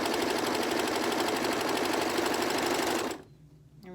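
A sewing machine stitches through the stacked fabric layers of a three-layer pocket mask, running loud and close as a steady whirring drone for about three seconds before it abruptly stops.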